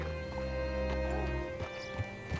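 Horse hooves clopping in Red Dead Redemption 2, steady and moderately close over a low droning game soundscape, with a few sharper thuds near the end.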